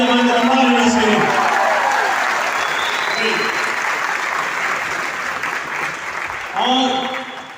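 An audience at a leadership event in Raipur breaks into loud sustained applause, a dense wash of clapping that swells at the start, gradually fades, and surges again briefly near the end, with a voice speaking over it.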